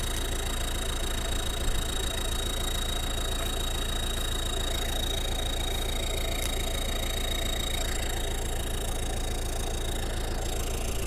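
A pickup engine fitted with a newly installed turbocharger, an MU4902 unit, idles steadily with an even, throbbing low rumble and a faint high whine, close and constant with no talking.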